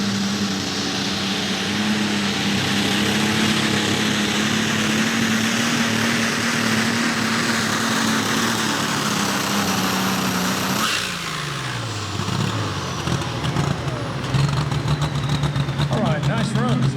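Super stock pulling tractor engine roaring through a night pull run at a truck and tractor event, a loud sustained high-pitched drone that winds down partway through, with an announcer talking over it.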